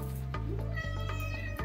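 A house cat meows several times in quick succession, close and clear, with rising and falling tonal calls during a chair reupholstery session.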